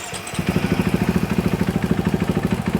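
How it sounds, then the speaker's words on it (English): A KTM EXC-F dirt bike engine fires up after a brief start and settles into a steady, close idle, its rapid even pulses thudding alone. "So I'll go ahead and start the bike."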